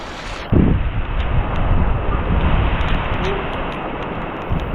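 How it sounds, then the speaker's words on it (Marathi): Heavy monsoon rain pours down in Ratnagiri in the Konkan region, a loud, steady roar close to the microphone with gusty wind buffeting throughout. "बघा पाऊस बघा किती आहे इकडे बघा."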